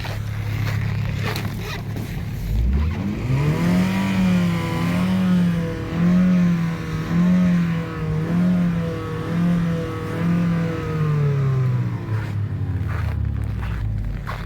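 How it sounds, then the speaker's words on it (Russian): A Honda Shuttle engine cranks and fires for the first time after decarbonization, settling into a loud, wavering idle with rhythmic surges in pitch before cutting off near the end. "первый запуск после раскоксовки Хонды"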